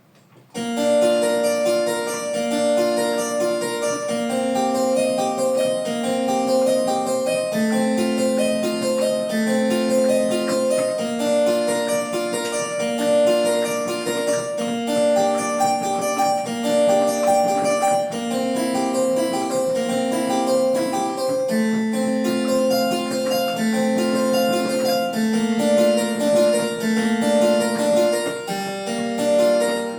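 Harpsichord playing a Bach piece, continuous busy plucked counterpoint at steady volume for the whole stretch, with no talking.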